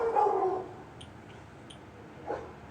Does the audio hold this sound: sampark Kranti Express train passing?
no